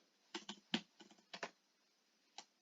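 Computer keyboard keys clatter in short, irregular bursts as code is typed, close and fairly quiet, with brief pauses between clusters of keystrokes.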